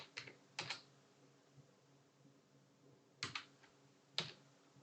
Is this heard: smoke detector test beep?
no